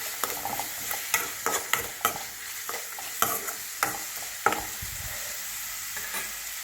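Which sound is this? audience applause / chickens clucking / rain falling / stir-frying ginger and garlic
stir-frying ginger and garlic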